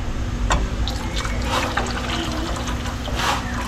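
Tap water runs from a faucet into a pot of sinigang broth being made with milkfish and guava, a steady close pouring trickle with small splashes throughout.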